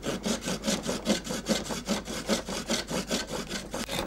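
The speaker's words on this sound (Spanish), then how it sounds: "Para que el serrucho corte bien la madera" Hand saw cutting through a block of wood for hand-carved castanets, with steady rhythmic back-and-forth strokes at about two per second, close and fairly loud, continuous throughout with no talking.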